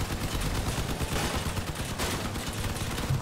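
Machine gun fire in Crossout, a dense, steady rattle of rapid shots with engine rumble beneath, loud and unbroken for a few seconds.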